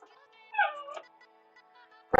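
Dogs whimper and whine in high, wavering cries that peak briefly in the middle, close by in a quiet indoor room, eager for green beans, followed by a sudden loud clatter at the end.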